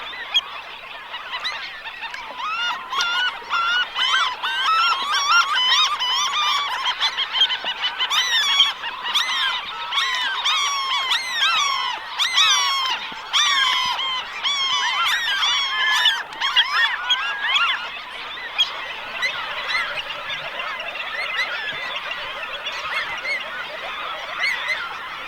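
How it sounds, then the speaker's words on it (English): A dense chorus of Franklin's gull courtship calls, many birds squawking and chattering at once, continuous and loud throughout with no voices. "the courtship of Franklin's gulls"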